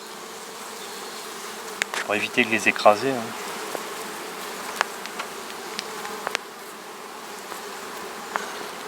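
Honeybees buzz steadily around a hive that has been smoked, a busy insect hum with clicks and knocks, while a person speaks briefly in French over it.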